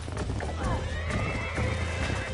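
A horse in the Red Dead Redemption video game whinnies and gallops, with hoofbeats running continuously and a neigh rising over them, steady and close throughout.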